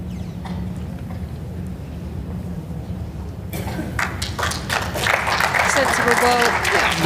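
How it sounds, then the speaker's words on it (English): Crowd applause in the hall at the 2022 World Indoor Bowls Championships rises suddenly out of quiet room noise and builds into sustained clapping. "The crowd appreciate that, you know."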